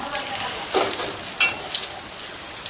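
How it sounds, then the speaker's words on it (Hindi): Potato chips frying in oil, a brief hissing crackle with a few louder spits, close and fairly loud, with faint voices in the background. "तो हम आलू की चिप्स भी तल देते हैं बच्चों के लिए।"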